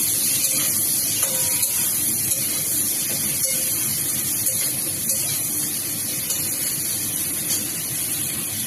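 Potatoes and eggplant sizzle in hot oil with bitter gourd in a pan, a steady bright hiss running throughout with small crackles and occasional clinks.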